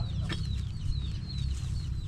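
A chicken clucks softly and repeatedly up close over a low, steady rumble of background noise.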